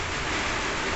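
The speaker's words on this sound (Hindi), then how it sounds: "ये बहुत तेज़ पानी गिर रहा है यार" Heavy first rain of the year during a storm: a dense, loud, steady roar of downpour with no gaps over the short stretch.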